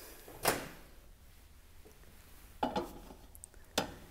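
Microwave door opened and closed in a home kitchen: one sharp click-thud, a pause, then a quick double clunk and one more latch click, faint against quiet room tone.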